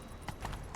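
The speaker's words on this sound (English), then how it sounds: "Grab a horse, we'll chase him down." Horse hooves from The Witcher 3 video game, a short burst of soft clip-clop beats over steady game background noise, quiet and brief with no speech.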